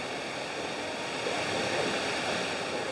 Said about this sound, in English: we're at the waterfall, down the rocks into this lovely little stream